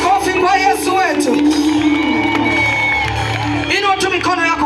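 Church congregation clapping and cheering for Jesus during a lively worship service in Sumbawanga, a loud continuous crowd roar with shouts and whoops rising and falling, voices calling out over the din.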